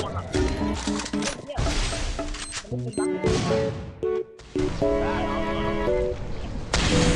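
Grenade blasts and bursts of gunfire from the video game Free Fire in a 4v4 match, sharp explosions and crashes over layered game music and effects, with a player talking over the action.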